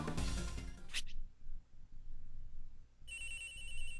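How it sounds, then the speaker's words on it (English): A phone ringing in the Ace Attorney Investigations video game: a bright, steady electronic ring begins near the end, loud and alone after a burst of game sound effects. "Agent Hicks's phone! It's ringing from somewhere, sir!"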